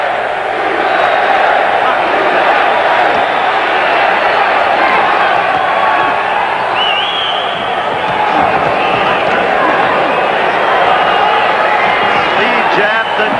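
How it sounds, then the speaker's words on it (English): Crowd at a 1984 Olympic boxing bout chanting, a dense, loud, continuous roar of many voices filling the arena without pause, with no commentary over it. "And the inevitable chant of the crowd."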